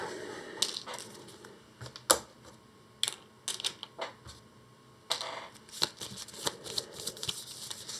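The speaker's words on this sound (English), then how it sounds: "So we'll shuffle this into the pad deck." Cards from the Earthborne Rangers tabletop game are shuffled into a deck by hand, giving close, uneven bursts of riffling and snapping separated by short pauses.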